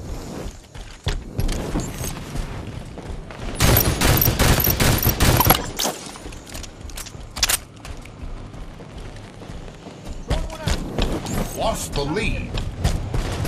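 Gunfire in a Halo 5 beta Slayer match on the map Regret. Bursts of automatic fire and explosions come in waves, some loud and sustained, others sharper and sparse, while an announcer voice speaks briefly.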